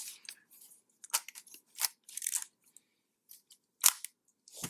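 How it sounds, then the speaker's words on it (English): Vintage Nikon F film camera from around 1967 or 1968 with its shutter set to 1/1000 second, giving a few sharp, close mechanical clicks and snaps spaced apart, with quiet gaps between them. "Let's check the shutter speed. So we've got it on 1000."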